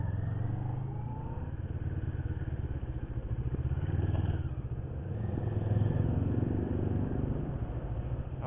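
A motorcycle under 400cc rides through an expressway toll gate in Cebu, its engine droning steadily and close with slight surges as it accelerates, along with wind rush and faint clatter.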